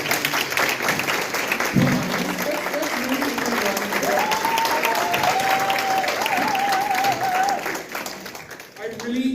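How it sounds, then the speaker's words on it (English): Loud, sustained applause from an audience at a women's leadership mentoring event held by a softball academy, filling the room for several seconds while a voice rises briefly above the clapping before it tapers off. "Now let's give these ladies a round of applause."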